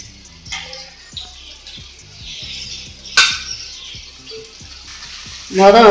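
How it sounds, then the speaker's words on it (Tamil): Prawns hit hot frying masala of tomato and onion in a pan for a Tamil prawn curry, a steady sizzle with soft stirring taps, a sharp clatter midway and a louder burst of frying at the end. "அடுத்தது நம்ம எறாவை போட்டுக்கலாம்"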